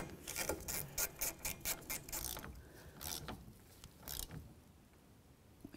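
Hand ratchet snugging the strut top nut on a 2010-2015 Kia Sorento front strut, a run of quick close clicking strokes followed by a few slower scraping turns, with no talking.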